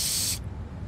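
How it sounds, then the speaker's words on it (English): A graffiti tag being spray painted in Tony Hawk's Underground 2, a short bright aerosol hiss that stops abruptly and leaves a faint low background. "we need to spray paint over them with our very, very, very good graffiti tag"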